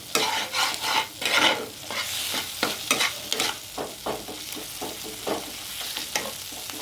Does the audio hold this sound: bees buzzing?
no